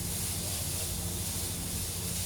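Noodles sizzle and fry in a little added oil in a pan while being stirred with chopsticks, a steady close hiss that runs unbroken with no talking.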